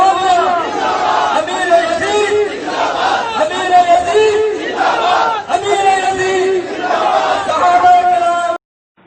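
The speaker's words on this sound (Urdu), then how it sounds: "آئیے دیکھتے ہیں کہ اس ریلی میں کیا کیا ہوا اور کس قسم کے نعرے بلند کیے گئے" A large crowd at a rally in Karachi chants slogans in loud, rhythmic unison, the massed voices swelling in repeated waves before cutting off abruptly near the end.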